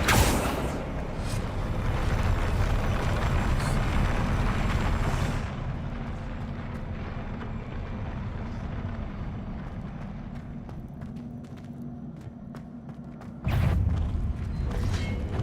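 Confringo fire-blast spells erupting in the Hogwarts Legacy video game, a dense roaring burst that rumbles for several seconds, eases into a steady low drone, then flares with a sharp new blast near the end.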